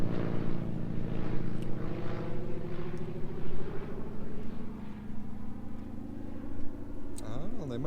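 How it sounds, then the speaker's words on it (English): A float plane on a lake, its propeller engine droning steadily at a distance for several seconds, with a rising whine near the end and people talking faintly over it. "So the float plane just dropped people off in the lake."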